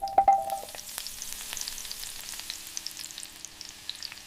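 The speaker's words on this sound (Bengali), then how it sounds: "ঠিক সময়ে ভাজা হচ্ছে" Vegetables frying with garlic and ginger for fried rice in a tiny miniature village-style kitchen: a steady close crackling sizzle with a few sharper pops at the start, no voices.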